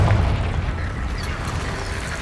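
A Confringo blasting spell from Hogwarts Legacy goes off as a single loud explosive burst at the start, then trails into a rumbling decay.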